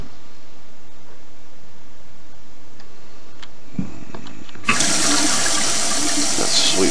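Water runs in a space station in the video game Prey, beginning as a faint trickle and then turning into a loud, steady broadband gush that continues to the end.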